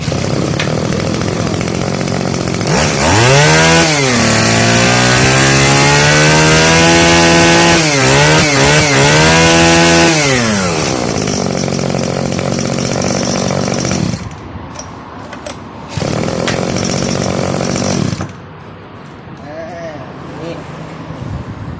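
A small two-stroke engine on a used Japanese Robin EC02E brush cutter starts up and runs loudly, revving up and down several times before dropping to idle and cutting out, with brief sputters.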